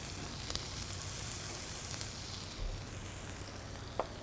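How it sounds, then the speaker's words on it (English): Julienned shallots, about half a cup, sizzle in hot extra virgin olive oil in a warm pan, a steady soft frying hiss with faint crackles, fairly quiet and with no talking. "So we got that nice sizzle, that's what we want, right?"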